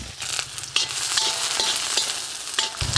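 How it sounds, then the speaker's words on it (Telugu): Finely chopped onions frying in hot oil in a kadai, an even close sizzle with brief stirring clatter throughout, no talking. "నూనె వేడెక్కగానే 8 చిన్నగా కోసుకున్న ఉల్లిపాయ ముక్కలు వేసుకుందాం"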